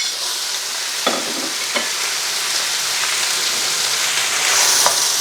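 Vegetables stir-frying in hot oil, a loud dense sizzle with a few sharp knocks of tossing, swelling slightly toward the end.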